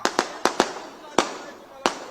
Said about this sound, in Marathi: फटाके बंद करा फटाके